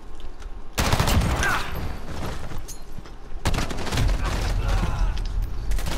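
Gunfire in Call of Duty Modern Warfare multiplayer, including shotgun blasts: dense, loud bursts of shots and rattling fire that start abruptly and keep going, with a brief lull before a second heavy volley.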